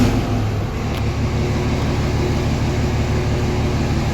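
A vehicle with a freshly installed 48RE automatic transmission drives on a test run, its engine giving a steady, close droning hum with little change in pitch throughout, no voices.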